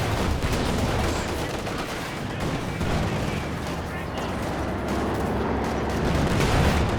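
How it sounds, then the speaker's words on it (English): Gunfire and tank shells clatter in a Company of Heroes 2 match, a dense continuous wash of shots, impacts and rumbling battle noise under a voice commentating throughout. "Shots plinking off here."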